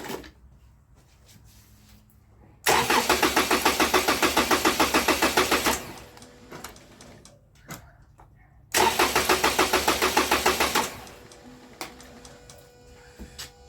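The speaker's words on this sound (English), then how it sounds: "Let's just see if it started up." A Toyota Camry with a crank-no-start fault cranks twice, each time in a steady, rapid rhythmic chug lasting about three seconds, with a quiet pause between the attempts and no clear catch into running.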